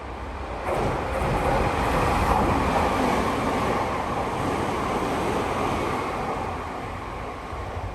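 A non-stopping train roars through Hagoromo station, a loud sustained rushing rumble that swells after the first second and fades slightly toward the end, with no talk.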